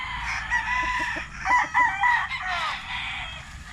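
Gamecock stag, a Kelso crossed with White Ragbe, crowing on a breeding farm, several crows and clucks rising and falling over a few seconds, moderately close.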